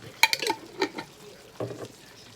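Thai chili paste hitting hot oil in a pot for tom yum, with sharp sizzling bursts and stirring scrapes that fade, then a second softer sizzle, fairly quiet and close.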